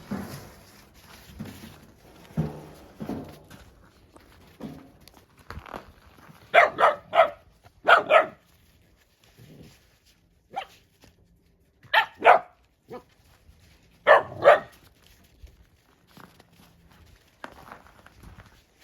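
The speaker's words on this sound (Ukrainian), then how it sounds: "такі малі, а вже так гавкають" Several sharp, high-pitched little barks and yips burst out in clusters, close by, between quieter stretches of shuffling and small movement.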